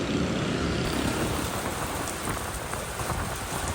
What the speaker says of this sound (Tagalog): Halos mamuti ang langit nang bumuhos ang napakalakas na ulan sa Quezon City kaninang hapon.